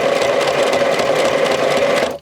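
Sewing machine stitching through scrap paper pieces, a fast continuous whirring hum that runs steadily at close range, then cuts off abruptly.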